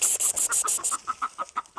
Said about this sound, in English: Normal, you leave that chicken alone.